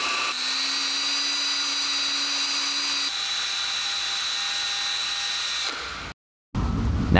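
Steady whirring of a buffing wheel polishing a rivet from a cast iron bear tape dispenser during a tool restoration, loud and continuous with a shift in pitch midway, then a brief cutout before the motor noise returns.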